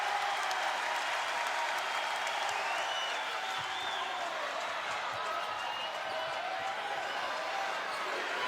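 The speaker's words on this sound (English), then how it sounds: "You hear the roars inside Gregory Gymnasium." A crowd roars and applauds inside Gregory Gymnasium at a Texas Longhorns women's volleyball regional semifinal, a loud, steady wash of cheering that fills the arena throughout.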